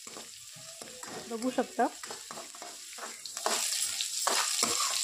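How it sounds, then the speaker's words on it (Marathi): Onions frying in a pan over full gas, with stirring scrapes and a steady sizzle that grows louder and denser in the second half; a brief word of speech comes near the end. "आता इथं गॅस फुल करायचा आणि फुल गॅसवरच सगळं फ्राय करून घ्यायचं आहे."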